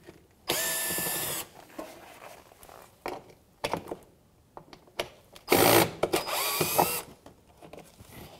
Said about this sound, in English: bunch of Phillips screws, we're going to go ahead and take those out now